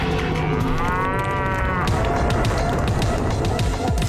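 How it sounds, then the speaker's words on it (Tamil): A cow moos loudly and close by in an animated cartoon, one long drawn-out call followed by clattering, running noise. "இந்த மாடு நம்மள விடாது போல இருக்கு."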